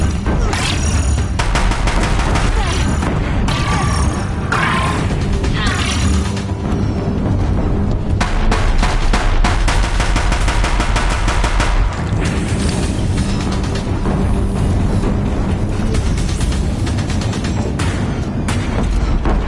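Warriors in a video game featuring Aloy pour gunfire onto a bridge: a loud, dense, unbroken barrage of rapid shots and heavy booms, sustained throughout with no let-up.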